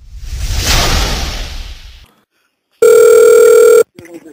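A single steady telephone ringback tone, loud and clear, sounds on a call to a Korean mobile carrier's (KT/SKT) call center, following a burst of whooshing noise and a short silence.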